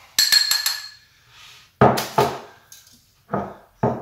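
A spoon stirs dry spice rub of garlic powder, mustard powder and oregano in a bowl, giving sharp clinks and scrapes in several short bursts, close and clear, with no voices.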